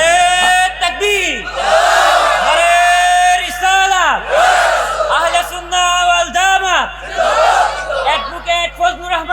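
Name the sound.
crowd chanting in response to takbir and risalat slogans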